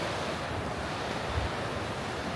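Whitewater river rapids in Bend, Oregon, class 2.5 to 3, with a steady, broad rushing roar of churning water close by, continuous and even throughout without any voices.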